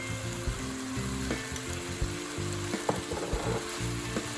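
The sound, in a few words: stirring potatoes with oyster sauce in frying pan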